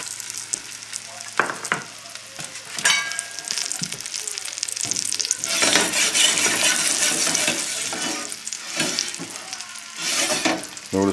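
Cornmeal and caraway crusted pork chops frying in a pan over a moderate flame, a steady close sizzle with crackles and pops that swells and eases throughout.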